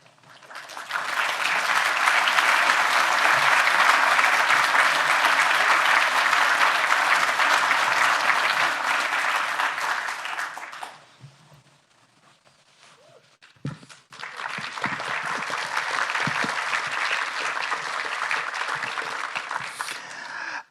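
A theatre audience breaks into loud, sustained applause at a talk on Baldwin: A Love Story, dying away briefly before a second long wave of clapping builds again.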